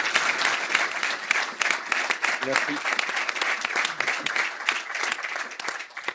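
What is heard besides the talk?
audience in the room applauding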